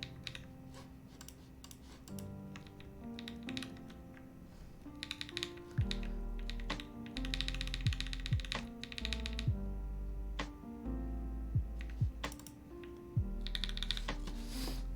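Keystrokes on the Bulwark prototype mechanical keyboard come in uneven bursts of crisp, close clicks and clacks, with pauses between runs and no voices.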